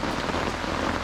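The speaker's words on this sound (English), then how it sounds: "It's definitely still raining." Steady rain drums on a tent and surrounding surfaces, a dense, even patter that fills the whole moment, close and fairly loud.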